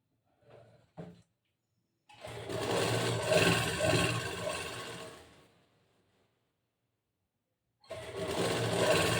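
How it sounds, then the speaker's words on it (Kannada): A sewing machine runs a straight seam along a half-inch cloth edge, whirring steadily and close for about four seconds before stopping. It starts up again near the end, and a couple of soft taps come before the first run. "ಈ ಅರ್ಧ ಇಂಚ್ ಬಟ್ಟೆಗೆ ಮೊದಲು ಸ್ಟ್ರೇಟಾಗಿ ಒಂದು ಸ್ಟಿಚ್ ಹಾಕಬೇಕು."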